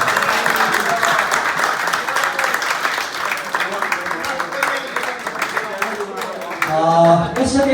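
Audience applause at a Davis Cup annual dinner, a steady wash of many hands clapping for several seconds with voices mixed in and a louder burst near the end.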